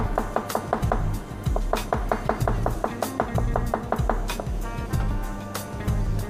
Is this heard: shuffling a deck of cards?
no